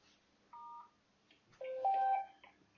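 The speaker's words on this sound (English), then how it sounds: "So if I press star, we'll hear a little tone" Pressing the star key on a phone keypad in a push-to-talk microcontroller setup sends short dual-tone beeps: a brief one early on, then a longer tone about a second later, both clean and fairly quiet over near silence.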